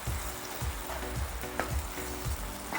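Chicken in sauce sizzles steadily in a hot pan while a utensil scrapes and stirs in a loose, repeated rhythm.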